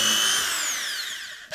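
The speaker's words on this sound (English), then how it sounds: "You don't want to have your drill going too hard" A power drill drives a screw into a wooden board for a 10-frame Langstroth beehive, its loud, close, high whine sliding down in pitch before a brief catch at the end.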